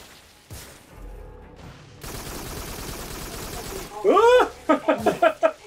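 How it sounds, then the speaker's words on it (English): Gunfire in the PlayStation VR shooter Farpoint: bursts of sharp shots and impacts build to loud rhythmic volleys near the end, mixed with game effects and a tonal creature-like cry. "that would involve me getting in the way of the bullets, Keegan."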